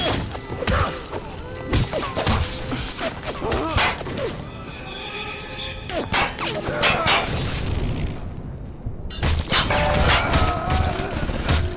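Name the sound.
machine gun fire in the video game Bioshock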